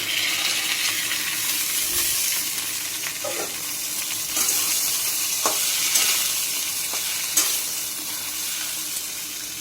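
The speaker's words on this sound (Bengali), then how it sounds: "আলুটা লাল লালই হয়ে গেল ভেজে। দিয়ে দেবো ঝিঙা" Potatoes fried until reddish-brown, with ridge gourd added, crackle in hot oil in a pan, giving a continuous close sizzle with a few light scrapes and taps of a spatula.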